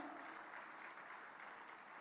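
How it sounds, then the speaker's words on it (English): Faint, steady applause from a conference audience welcoming a session moderator at a semiconductor event, distant and even throughout the short stretch. "Please extend a very warm welcome to him with a big round of applause"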